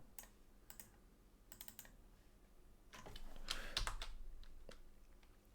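Someone types on a computer keyboard, soft scattered key clicks coming in short bursts, then a denser quick flurry of presses, close and quiet with no talking.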